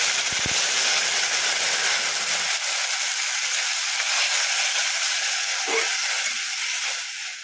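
A sauce mixture of water and Kashmiri chilli powder hits a hot pan for chilli soya, producing a loud, steady, close hiss of sizzling steam that fades slightly at the end, with no talk.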